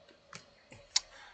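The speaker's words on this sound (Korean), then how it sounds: "제가 하나를 타이핑을 해서 정리를 해 드리도록 하겠습니다." A few separate keystrokes on a computer keyboard, three or four sharp clicks spaced irregularly, close and fairly quiet with no speech between them.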